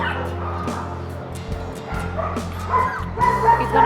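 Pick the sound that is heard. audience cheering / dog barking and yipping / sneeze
dog barking and yipping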